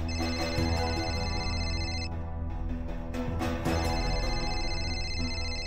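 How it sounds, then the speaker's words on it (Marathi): A mobile phone rings with a melodic electronic ringtone, a repeating bright tone pattern that briefly pauses midway and then resumes, heard clearly over a soft indoor background with no talking. "जेनीचा फोन."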